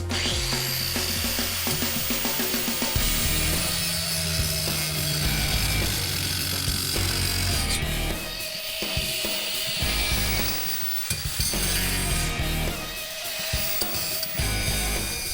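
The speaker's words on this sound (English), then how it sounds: "My angle grinder is having a hard time cutting through the roof rack." An angle grinder struggles to cut through a metal roof rack bar on a Chevy Astro van, a loud, harsh, high whine with grinding chatter that dips and surges, close up and without talk.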